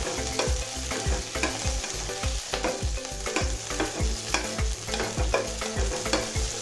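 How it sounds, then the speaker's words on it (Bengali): Green chilies fry and sizzle in a pan for a mashed tomato, potato and eggplant dish, with steady crackling and repeated stirring scrapes throughout, close and fairly loud, no voices. "কাঁচামরিচ একদম খুব সুন্দরভাবে ভেজে নিতে হবে"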